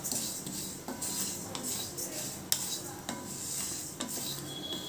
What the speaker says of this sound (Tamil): இந்த எள்ளை அப்படியே போட்டு நல்லா சத்தம் வரும் அது வரைக்கும் வறுக்கணும். அது பட பட படன்னு பொரியும்